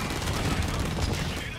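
Rapid, dense gunfire from the online shooter game Blacklight: Retribution rattles continuously and loudly throughout, a sustained burst of overlapping shots with no pause.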